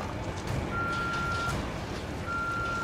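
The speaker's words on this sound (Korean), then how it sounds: "자, 삐삐기 소리가 또 나네요." A beeping alert in the horror game The Evil Within sounds as two long, steady electronic tones with a gap between them, over a dense, noisy ambient background.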